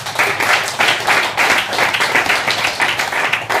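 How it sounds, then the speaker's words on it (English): A comedy-show audience in The Hague applauds a comedian taking the stage: loud, sustained clapping from a large crowd fills the whole stretch at a steady, dense rhythm. "So please give a very, very warm and hard round of applause for our next comedian, Socrates, Inglessis."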